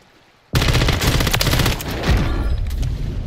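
Rapid automatic gunfire in Call of Duty Warzone erupts after a brief quiet start and rattles on loud and dense for about three seconds, with heavy booming bursts throughout.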